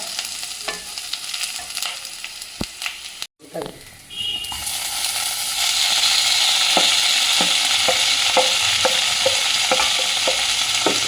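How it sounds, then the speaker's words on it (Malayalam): Onion frying in a pan sizzles up close, with scraping stirs and a brief pause before the hiss swells louder and steadier, accompanied by the clicks of a spatula. "ഇതാ ഉള്ളി നോക്കൂ ഒന്നും കൂടെ സൗണ്ട് വരണം"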